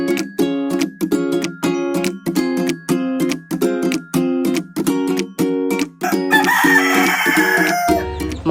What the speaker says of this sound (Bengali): সেই ছাদে রয়েছে অনেক রকমের মুরগি, হাঁস এবং কবুতর।